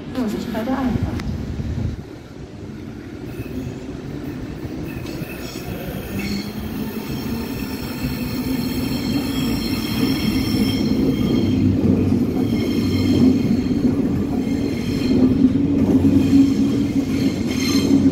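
A Berlin S-Bahn class 485 train pulls into the station on the S85 line, its rumble building as the cars roll in, with long wheel squeals rising over the din and a faint voice beneath.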